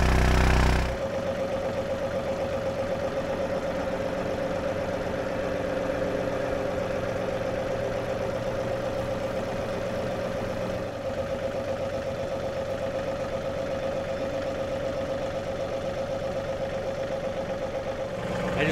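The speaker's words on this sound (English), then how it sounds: "I'm gonna take the backhoe over here and try to dig a hole in a deeper spot" A backhoe's engine idles close by with a low, even drone and a constant hum, running without pause for the whole stretch.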